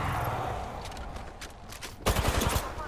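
Gunfire in a sci-fi shooter video game, a run of sharp bursts and scattered shots, growing louder and punchier near the end, with no voices.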